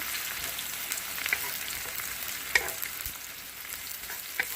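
Chicken curry frying in a pan while being stirred, a steady close sizzle with a few sharp clinks of the spoon against the pan, with no talk.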